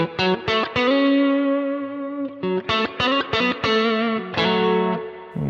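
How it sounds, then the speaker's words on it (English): Electric guitar with chorus on a Quad Cortex, played as a run of plucked notes and sustained chords with shimmering, slightly modulated tone; clear and close, no talking. "Bit of chorus on."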